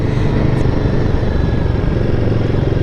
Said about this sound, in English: when you just increase the revs a bit